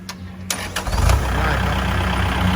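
A Kubota L4708 SP tractor's engine cranks with a few brief bursts, then catches and settles into a steady, fairly close diesel idle.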